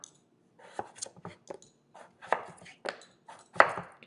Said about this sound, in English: Cut it into slices